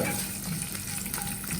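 Potatoes frying in a pan for a milk-based aloo sabzi give a dense, steady sizzle with scraping stirring strokes, close and continuous, with no voice.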